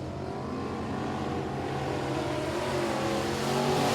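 Street stock cars race through a heat at Sabine Speedway, engines droning loud and steady with a rising pitch as the pack accelerates past, no voices over the roar.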